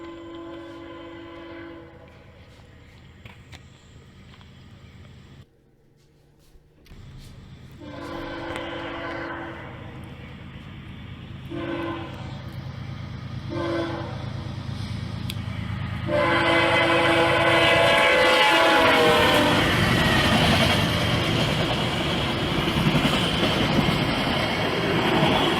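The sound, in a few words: CSX Q205 freight train passing with horn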